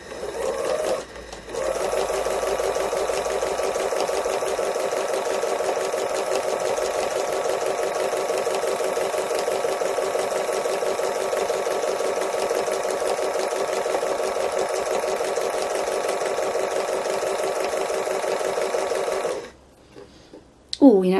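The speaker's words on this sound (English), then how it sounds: "I generally for free motion, I change between about five and one" Sewing machine doing free motion embroidery, a loud, steady rapid stitching drone running continuously for most of the stretch, starting after a short pause and stopping abruptly near the end.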